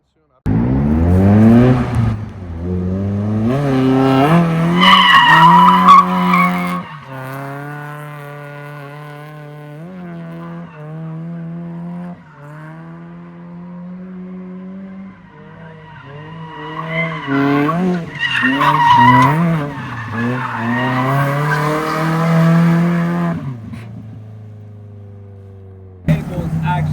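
A Mazda NB Miata fitted with an angle kit drifts, its tires squealing in long, wavering tones over a revving engine. The sound is loud and close, builds in repeated bursts, and eases off briefly in the middle.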